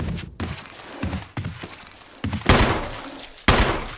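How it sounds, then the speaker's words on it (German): Gunshots in the video game Resident Evil HD Remaster, a string of heavy thudding shots at irregular intervals, the last two loud and booming with lingering tails, with a few muffled steps between. "Ich schieße einfach mal blind."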